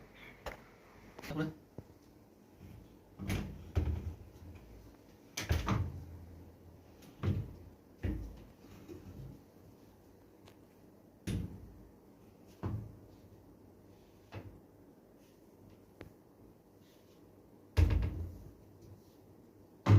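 Cover being shut on a swing door closer during a replacement job, giving a series of sharp plastic or metal knocks and clacks at irregular intervals, close by, with quiet gaps between them.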